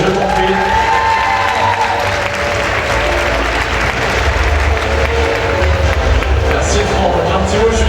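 A crowd applauds loudly and steadily at the Miss Oise 2015 beauty pageant results for the second runner-up, a dense sustained clatter of clapping with scattered cheers and voices mixed in.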